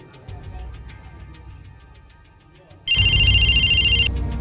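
A phone ringing after a call to a client is dialed, a loud steady electronic ring tone entering suddenly partway through and lasting about a second over faint room noise and low background sound.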